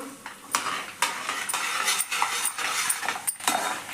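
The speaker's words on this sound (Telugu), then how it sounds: "మంచిగా ఫ్రై చేసుకోండి" Dried red chillies, mustard seeds and garlic frying in oil for amla pickle, with a soft sizzle under sharp, repeated clinks and scrapes of a spoon against the pan, roughly two per second, close and with no talk.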